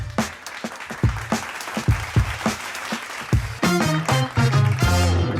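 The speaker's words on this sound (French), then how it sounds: "On peut applaudir." Audience applause at a live French talk show, a broad crackling wash of clapping that swells and stays dense, with a few brief musical notes rising near the end.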